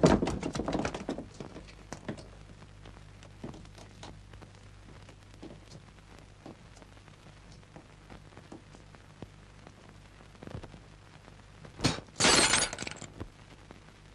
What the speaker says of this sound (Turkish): Ayna kırılması mekana uğursuzluk getirir derler